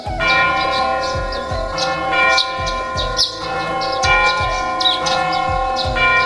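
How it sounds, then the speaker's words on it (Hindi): Temple bells ring in Ayodhya, a fairly loud, sustained bell tone with repeated strikes under a layered musical bed, with faint bird chirps and no voices. "मंदिर की घंटियों की आवाज"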